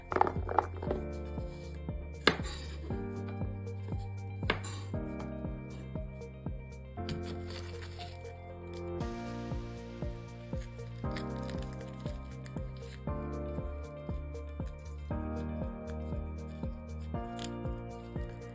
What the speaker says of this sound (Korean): 대파랑 양파는 다지기를 사용해서 다져줄 거고요